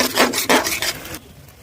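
Masala with Kashmiri red chilli and salt being stirred and scraped in a pan while cooking biryani at home, giving a loud, close, rasping scrape in two or three strokes before falling quiet.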